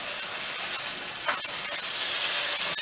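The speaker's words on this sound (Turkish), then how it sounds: "Köftelerimizi çevirelim." Minced-meat patties mixed with peppers sizzling loudly in a hot pan as they are flipped, a dense steady frying hiss close up with a few soft knocks, no voices.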